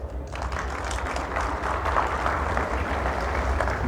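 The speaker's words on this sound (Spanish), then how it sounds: "Con un fuerte aplauso, bienvenido." An audience at a 2024 sustainability summit gives sustained, even applause to welcome a speaker, a steady wash of many hands clapping in a large room with a low hum beneath.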